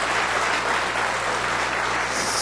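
A large crowd at a Hindi poetry recital (kavi sammelan) applauding, a loud, dense, continuous wash of clapping with no break.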